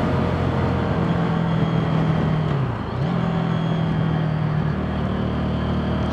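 A Neco NC-N01 125 motorcycle engine runs steadily while riding, a continuous low drone with a brief dip in pitch midway before it settles back to a level hum.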